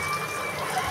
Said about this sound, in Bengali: এখন আমি ধনিয়া পাতাটাকে ধুয়ে নিই।